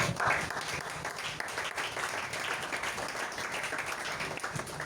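A church congregation applauding, sustained dense clapping from many hands, moderately loud and steady throughout with no break.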